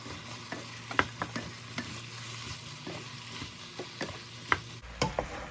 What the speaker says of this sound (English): I'll go ahead and add my okra.